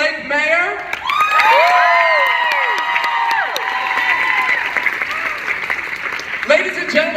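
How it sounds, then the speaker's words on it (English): A loud convention-hall crowd at a San Diego Comic-Con 2016 panel claps and cheers steadily, with whoops and excited shouting rising over the applause, while an amplified voice carries through it. "Make a big round of applause for Andre Lake Mayer."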